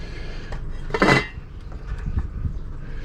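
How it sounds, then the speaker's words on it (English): A lid settles onto a pot with one short metallic clink and rattle, after quieter knocks and faint background hum in a home setup for recovering gold from military pins. "Put a lid on it."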